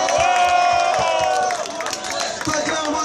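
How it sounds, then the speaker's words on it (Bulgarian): Crowd at a live concert cheering and yelling, a loud sustained roar with scattered shouts and rhythmic thumps, steady throughout with a slight dip midway. "И сега бурни аплодисменти за честото вино в Скайбар"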